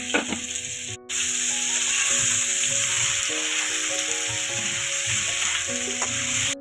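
Slit green chillies and tomato pieces sizzle in hot oil in a kadai with potatoes, a steady close frying hiss broken by light stirring scrapes and soft background music tones.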